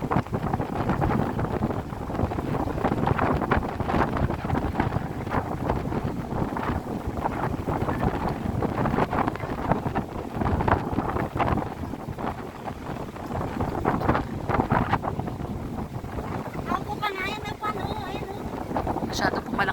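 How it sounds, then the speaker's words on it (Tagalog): Strong wind roars across a stormy beach outing, blowing as a steady rushing noise with gusty swells, while voices talk over it. "Masyado pong malakas yung hangin at umuulan kasabay pang ulan"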